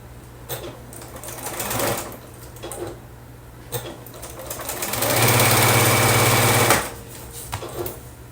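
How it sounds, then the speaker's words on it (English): A sewing machine stitches quilt fabric at close range, running in short bursts with pauses between, then a longer steady run of fast mechanical stitching before it stops. "and we're going to sew."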